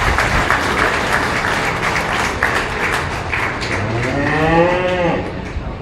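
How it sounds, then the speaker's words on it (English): Steady applause from a crowd at a county fair cattle show fills the whole stretch, with cattle mooing over it toward the end. "please give these steer exhibitors a big round of applause."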